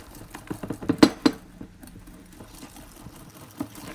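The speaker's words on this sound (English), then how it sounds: "So now we're gonna whisk the vanilla up" Vanilla pudding mix whisked by hand in a bowl for a no-bake banana pudding cream pie, a quick burst of close clinks and scrapes against the bowl, then softer intermittent taps fading out.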